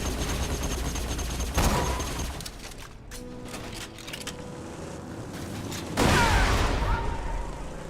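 Video game gunfire crackles in rapid bursts, with heavier volleys near the start and again toward the end, mechanical clatter between them, and game background sound running throughout.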